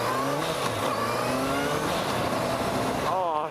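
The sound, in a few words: four-cylinder motorcycle engine revving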